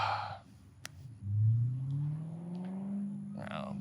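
A car rolls past in a parking lot, its engine note rising and sliding upward as it approaches and passes fairly close, with brief speech at the start and end.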